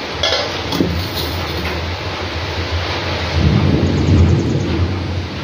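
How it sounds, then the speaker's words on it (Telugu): Rain pours steadily outside while deep thunder rumbles and swells loudly midway, with wind in the background and no one speaking. "వర్షం సౌండ్ వినిపిస్తుంది కదండి"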